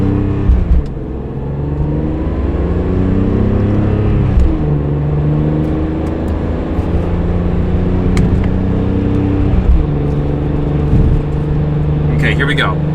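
A BMW E46 M3 with an SMG gearbox and TTFS tune drives along, engine droning and rising then dropping through several gear changes, close up inside the car with occasional talk.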